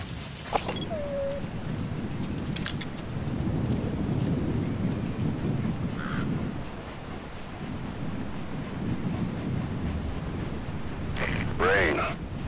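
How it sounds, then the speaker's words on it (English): Steady rainfall in Metal Gear Solid V: The Phantom Pain hisses continuously as a dense wash, with low rumbling like distant thunder underneath and a few brief electronic blips and clicks from the game. "Sound of rainfall should help to mask your footsteps."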